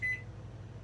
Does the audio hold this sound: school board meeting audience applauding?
no